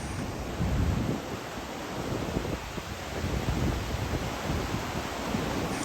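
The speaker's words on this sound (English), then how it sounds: "It's a lot of fast, muddy water, and it's extremely powerful, and it's carrying debris" A flooded Arizona river of fast, muddy water carrying debris rushes in a continuous broadband roar, with wind buffeting the microphone and no voices.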